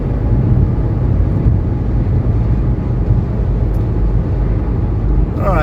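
Steady low rumble of a 1985 Mercedes 300D with its 617 diesel engine cruising on a highway, heard from inside the car as continuous road and engine drone with no clear breaks.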